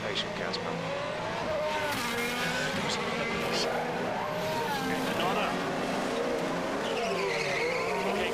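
Racing car in the F1 2021 video game sliding and drifting, with tire skid and squeal over a steady engine roar, loud and continuous throughout while a voice talks over it.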